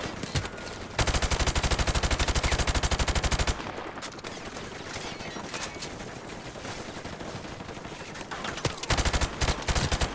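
Automatic weapon fire in Call of Duty: Modern Warfare, loud sustained bursts of rapid shots, with an especially dense stretch early on followed by continued volleys.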